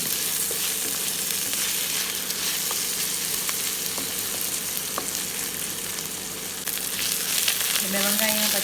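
Crushed ginger and fresh turmeric sauté in an oiled pan with onions and green chillies for a mackerel curry, giving a dense, steady sizzle with scattered stirring clicks and a brief voice at the end.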